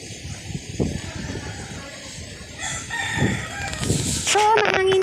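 A rooster crows loudly near the end over rustling and gusty background noise, with chickens clucking and shuffling nearby.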